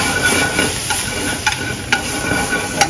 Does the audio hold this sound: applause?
no